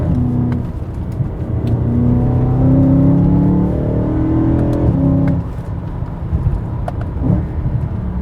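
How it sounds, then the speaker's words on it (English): A BMW E90 M3 with the S65 V8 and DCT gearbox revs loud and close, its engine note swelling and falling through quick downshifts with a deep, throaty roar. "the downshifts in the DCT are something, just music to your ears"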